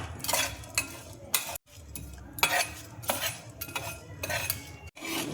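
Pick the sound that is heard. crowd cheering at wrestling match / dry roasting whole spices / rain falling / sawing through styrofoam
dry roasting whole spices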